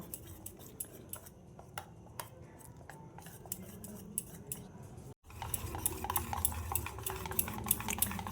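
Jali roti batter being stirred in a bowl, with a utensil clinking and scraping against the bowl in quick irregular taps, near and fairly quiet, growing busier after a brief pause.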